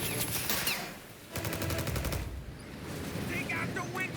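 Rapid gunfire from the Mafia Definitive Edition video game, with bursts of fast repeated shots and clatter under noisy action and shouting voices.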